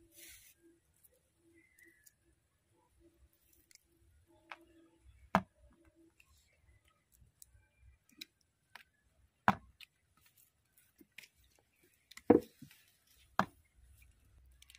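A knife cuts the stems off washed tomatoes on a board, making a few sharp, sparse taps spaced seconds apart in a quiet room.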